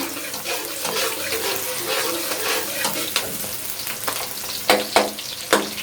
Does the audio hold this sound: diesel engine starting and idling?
no